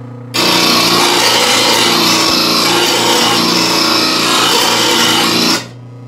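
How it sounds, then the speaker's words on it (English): A power tool sharpens the blades of a homemade striping kit, a steady loud grinding drone that runs continuously for about five seconds before cutting off. "Sharpen the blades in a sense."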